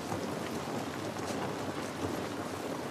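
Rain falling in The Last of Us Part I video game, a dense and even wash of drops that stays at one moderate level and never lets up, with no voices over it.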